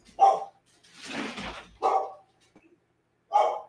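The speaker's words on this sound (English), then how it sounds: "As my puppy barks." A puppy barks in three separate sharp bursts spaced over a few seconds, close and fairly loud, with a brief rustling noise between the first and second barks and no talking.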